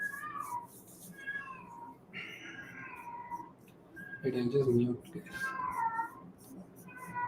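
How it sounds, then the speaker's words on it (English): A female cat in heat meows loudly near the microphone, a few drawn-out yowls rising partway through, with people talking throughout. "sorry about my cat."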